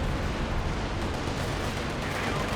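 An artillery barrage in Company of Heroes 2, a dense, continuous rumble of distant booming blasts layered together at moderate level with no clear gaps.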